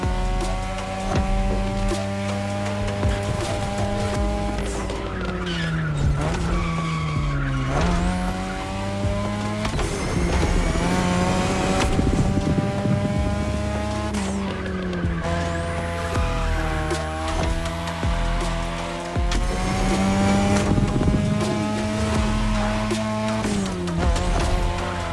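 A car in The Crew Motorfest drifts through a touge run, engine roaring steadily while the tires squeal in long, sweeping wails that rise and fall with each turn, loud and continuous, with no talking.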